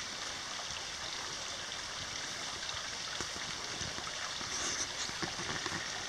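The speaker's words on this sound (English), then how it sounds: "there's a spring that I understand runs almost that" Spring water running hard beside an old rural homestead, a steady rushing babble close by, continuous and fairly loud with no talk.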